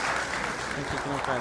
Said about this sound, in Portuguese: Salve de palmas para o irmão Denison.